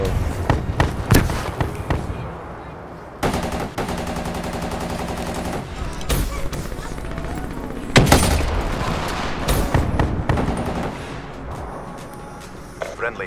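Bursts of automatic fire from a sentry gun in Black Ops 3 multiplayer, loud rapid rattling volleys broken by short pauses and sharp booms, with a player's voice talking over parts of the shooting.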